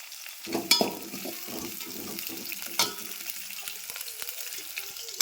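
Chopped onion fries in a pan with mustard seeds, a low crackling sizzle broken by a few sharp clinks and scrapes of stirring, with faint background clatter.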